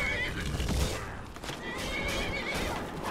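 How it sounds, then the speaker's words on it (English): A horse in Skyrim whinnies loudly while under attack, its neighs rising over clip-clopping hooves and fighting noise at close range. "Oh, they're all attacking my horse."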